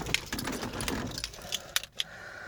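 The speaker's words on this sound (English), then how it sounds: "Let me just get out the keys." Metal keys jangle and clink in quick irregular bursts, close by, with a faint low hum in the background, as car keys for a 1996 Jeep Cherokee are taken out.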